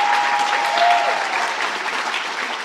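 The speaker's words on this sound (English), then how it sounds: "Let's give him an applause." A large audience at a medical school ceremony applauds, a continuous wash of many hands that holds at a steady level, with a brief faint tone near the start.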